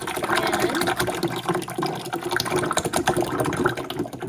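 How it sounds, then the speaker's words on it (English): Clay slurry mixed with water is poured into a bag in a clay lab, making a continuous gushing, sloshing pour that stays loud and rough from start to finish. "So I'm going to pour it into this bag."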